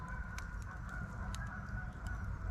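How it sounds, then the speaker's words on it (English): A flock of geese honking somewhere in the distance, with repeated short calls scattered over a steady low rumble of background noise. "It's a bunch of geese."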